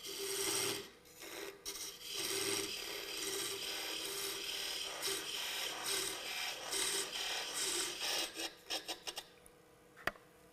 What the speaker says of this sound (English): the parting tool gets used on edge like this to make a groove kind of a cut in our spindle blanket